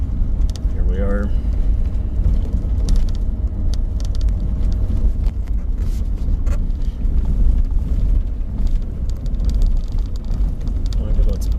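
A camping truck rumbles along a washboard dirt road, a steady loud low drone with wind noise throughout and someone talking over it.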